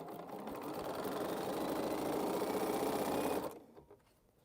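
A sewing machine stitches a quilt piece, running in a fast, steady mechanical whir for about three and a half seconds before stopping abruptly, close up with no talk.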